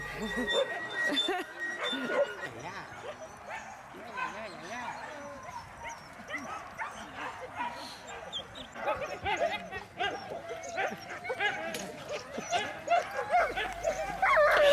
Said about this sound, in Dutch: De honden worden vanzelf zenuwachtig, want ze willen heel graag rennen.